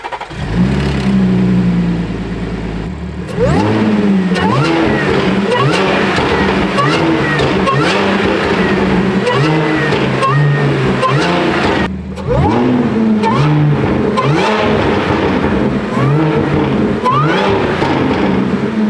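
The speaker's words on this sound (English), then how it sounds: "having a proper intake on the car really wakes it up, and you can hear the supercharger whine" An Audi S5 with a titanium intake and supercharger revs repeatedly, rising and falling engine sweeps with a whine layered on top, loud and close, pausing briefly before several more rev bursts.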